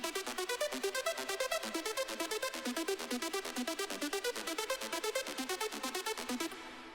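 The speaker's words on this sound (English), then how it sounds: "we've got some arps playing that play in the intro and the break, which are pretty cool." Bright synth arpeggio from Spire presets in a dance track's intro and break, fast even sixteenth-note pulses cycling through a rising and falling pattern, loud and continuous with a steady beat beneath.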